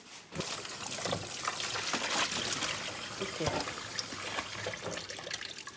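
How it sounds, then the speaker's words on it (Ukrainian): Meat being rinsed under running water from a tap, a steady close splashing trickle with irregular sloshes as the pieces are turned, running alone throughout. "Витягнули наше м'ясо, зараз ми його промиємо."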